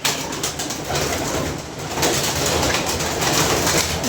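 Pigeons coo in soft, repeated low throaty calls close by, layered over a constant background hum, with no talking.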